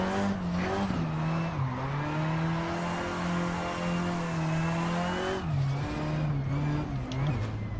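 Car engine in the Assetto Corsa driving game revving steadily while drifting, a sustained loud tone that dips and recovers with gear shifts, heard without talk.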